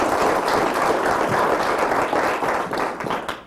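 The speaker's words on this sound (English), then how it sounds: "Applause." An audience at a conference closing roundtable gives a burst of applause. The clapping is loud and crowded, many hands at once, and holds steady before trailing off abruptly.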